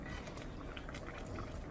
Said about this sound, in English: this is bubbling a little much, so I'm going to lower the temperature a little more